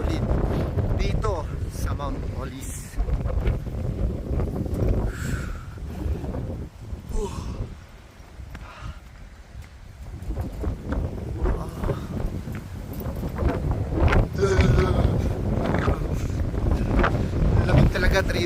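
Strong wind buffets the microphone on Mount Olis, a cold mountain in Atok, Benguet, roaring steadily for the whole stretch with gusty low rumbles and brief lulls, and a voice can be heard briefly over it.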